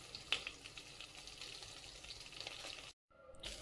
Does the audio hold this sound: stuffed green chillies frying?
yes